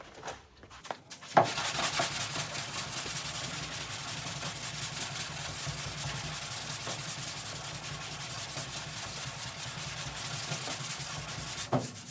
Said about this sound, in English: And the sandpaper I like to use is this Refinery white line.